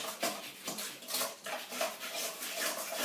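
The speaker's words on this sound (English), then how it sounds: "And I'm going to just zest up this orange." An orange being zested for a gluten-free pound cake, giving a run of short raspy scraping strokes against a grater in a quiet kitchen, with light clinks of utensils between passes.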